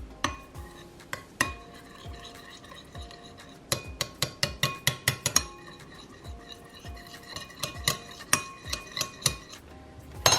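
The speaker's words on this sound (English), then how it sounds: "Now I'm just going to mix that all up with a spoon." A spoon stirs shrimp fried rice ingredients with minced garlic and fresh pepper in a bowl, giving bright, irregular clinks and scrapes against the dish, clustered in quick bursts with brief pauses.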